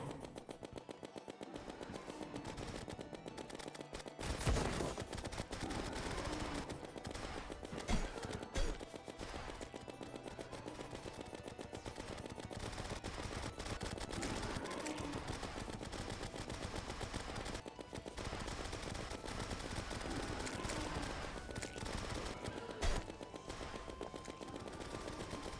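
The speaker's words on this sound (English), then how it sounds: "See if I can't shoot the eyeball dead." Rapid gunfire while fighting the Eye of Cthulhu boss in the video game Terraria, continuous and dense throughout, with steady clattering bursts and louder impacts mixed into busy game sounds.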